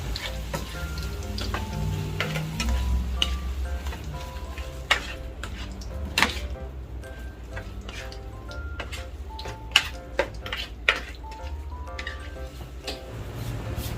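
Chicken pieces frying in oil beside a pan of grated carrots and baby potatoes, a steady low sizzle under light clinks and taps of a spoon against cookware, continuing close by without talk.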